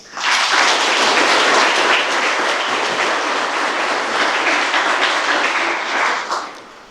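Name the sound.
round of applause at banquet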